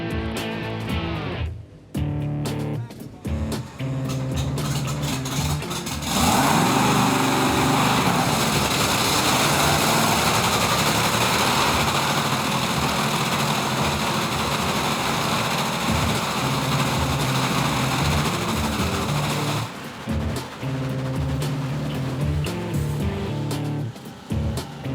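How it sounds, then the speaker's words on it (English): A drag racing car engine fires up and runs at a loud, sustained roar for about fourteen seconds, with rougher sputtering and mechanical noise before and after the main run. "The team decides to fire the engine once more to make sure the timing is right"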